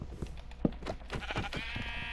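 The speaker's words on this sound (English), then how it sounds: "Oh, there's sheep here." Sheep bleating in a survival multiplayer video game, a few short wavering bleats ending in a drawn-out nasal call, heard among soft in-game background sounds.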